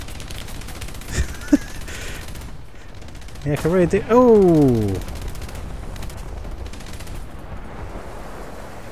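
Bursts of 20mm Oerlikon cannon fire in War Thunder, a few sharp reports early then a louder rapid cluster in the middle, heard from inside the vehicle with someone talking over the gameplay.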